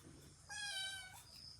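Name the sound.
cat meowing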